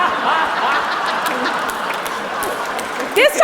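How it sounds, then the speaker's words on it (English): An audience at a live comedy debate cheers and applauds in a steady, dense wash of clapping and crowd noise, with a few whoops near the end. "Give me a cheer"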